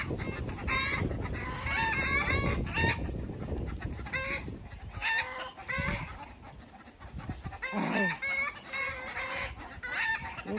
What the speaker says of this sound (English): My chickens just went crazy.